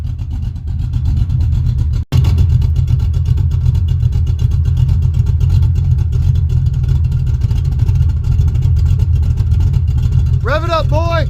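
A car with its tailpipes removed and exhaust dumped runs loud and close, its rumbling engine held at a steady rich idle and rev with a brief dip, while a voice speaks over it near the end.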